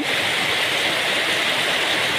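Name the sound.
rainwater pouring into a drum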